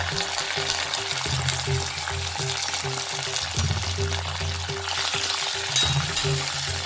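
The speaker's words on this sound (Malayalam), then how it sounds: "അതിലേക്ക് അരിഞ്ഞു വെച്ച ചെറിയുള്ളിയും പച്ചമുളകും ഇഞ്ചിയും ചേർത്ത് നന്നായി വഴറ്റിയെടുത്തു" Chopped shallots, green chilies and ginger sautéing in a pan for puli inji, a steady low sizzle with scattered stirring clicks throughout.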